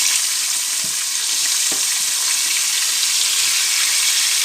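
A fish fries in a non-stick pan with a dense, steady sizzle, close and fairly loud, with a couple of brief soft knocks as it is handled; no one speaks.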